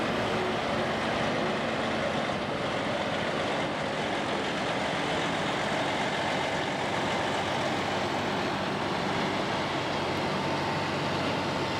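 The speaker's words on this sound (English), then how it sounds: "it's a John Deere 9330 four-wheel drive tractor" A John Deere 9330 four-wheel drive articulated tractor rolls past in a parade, a steady broadband engine rumble heard from a moderate distance with no clear gear changes.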